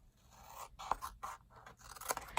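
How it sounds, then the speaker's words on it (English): Scissors snip through paper while cutting a triangle toward a corner for a woven box craft, a few crisp short cuts and scraping slides at close range with no talk. "take your scissors and start from here, and you just want to go right to that corner"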